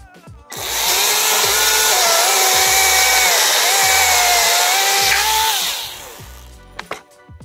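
A cordless Einhell chainsaw cuts through wood with a loud, steady high-pitched whine that holds for about five seconds, its pitch wavering slightly under load, then spins down and stops, followed by a few faint knocks.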